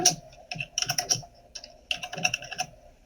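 Typing on a computer keyboard while entering a residential real estate listing number, with bursts of clustered clicky keystrokes and short pauses between them, close and moderately loud, with no voices.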